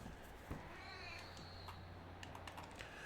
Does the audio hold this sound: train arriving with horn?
no